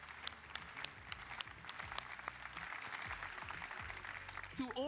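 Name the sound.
audience slow clap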